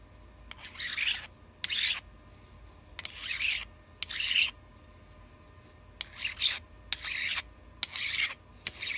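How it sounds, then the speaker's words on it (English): A flat file rasps gently across the bottom of an oil pump casing, taking off high spots in seven separate bursts of dry scraping with short pauses between them, close and clear. "we take a flat file, and we just gently rub around the bottom to take off any high spots"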